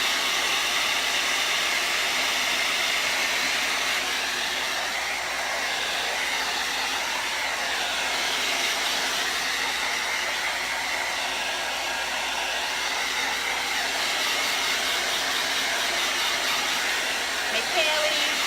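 A hair dryer blows steadily for a long stretch, drying paint on a Santa door hanger with a close, loud, unbroken whoosh.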